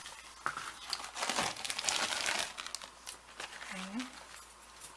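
Deli paper crinkles and rustles as it is handled during a gel plate layering craft, a close crackling that comes in uneven bursts while a person speaks softly in the background.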